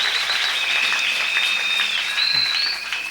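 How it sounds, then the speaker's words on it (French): A church congregation claps loudly and steadily for Jesus, a dense continuous wash of applause with a whistle or high cheer gliding above it, briefly easing near the end. "Nous acclamons bien fort pour Jésus."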